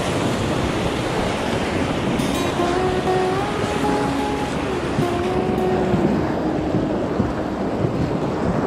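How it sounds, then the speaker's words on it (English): Steady roaring rush of river rapids at Government Rapids on the San Juan River, a broad continuous wash of churning water with wind buffeting the microphone, no voices. "Here we are at Government Rapids, which is the big tough one here on the San Juan River."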